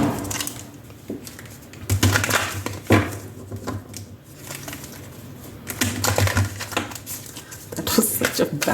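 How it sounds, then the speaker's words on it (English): Tarot cards are shuffled in a clumsy, irregular series of papery riffles and taps, close and moderately loud. "That was such a bad shuffle."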